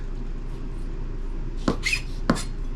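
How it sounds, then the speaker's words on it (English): A kitchen knife smashing and chopping two garlic cloves: two sharp, close thuds on a board, half a second apart, over a low steady background hum. "And chop it up. 2 cloves of garlic."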